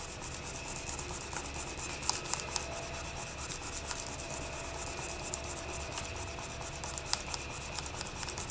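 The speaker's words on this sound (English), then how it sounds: "Now we're just going to burnish that onto our mica shift," Polymer clay is burnished onto a mica shift sheet, a soft, continuous rubbing and scraping that is faint and close, with small irregular ticks and no talking.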